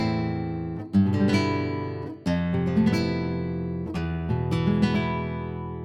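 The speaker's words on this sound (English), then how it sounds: "we need to talk about the Andalusian cadence, which is the center pillar of harmony in flamenco." Flamenco harmony on what appears to be strummed guitar: an Andalusian cadence of descending chords, played alone with clear, loud rasgueado-style attacks marking each chord change.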